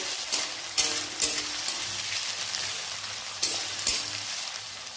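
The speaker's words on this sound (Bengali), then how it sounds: "পেঁয়াজগুলোকে ভালো করে লাল লাল করে ভেজে নেব।" Onions sizzle steadily in hot oil in a pan for a Bengali fish-head muri ghonto, a dense continuous crackle with a few louder bursts as they are moved, no voices.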